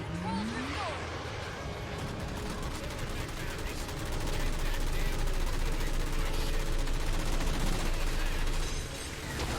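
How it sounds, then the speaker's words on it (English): Dense, continuous cannon fire from a mech in the Halo 4 video game, rumbling and loud throughout with heavy explosive bursts, mixed with game noise and people talking. "Would the mech cannon actually do enough damage to make Didact go, I'm gonna leave"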